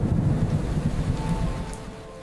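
Steady rain with a low rumble of thunder, a dense wash of falling water that holds loud and close before easing slightly toward the end, with no voices.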